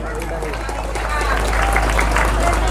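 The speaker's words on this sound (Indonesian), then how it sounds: "Yuk tepuk tangan untuk santri-santri yang hebat ini." Audience of Islamic boarding school students and guests applauding, a loud continuous roar of clapping mixed with crowd noise and voices.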